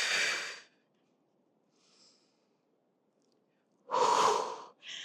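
Deep breaths during a Pilates core and mobility workout: a long exhale at the start, a faint breath near two seconds, then a strong close exhale and a shorter follow-up breath after a quiet pause.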